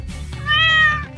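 A single domestic cat gives one clear, drawn-out meow, close and fairly loud against a quiet background.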